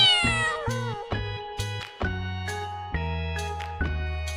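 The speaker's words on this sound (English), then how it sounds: "Cat says meow meow." Several short cartoon cat meows from a children's animation, each one clear and close, repeating in quick succession over a soft musical backing.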